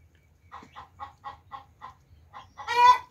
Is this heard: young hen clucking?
yes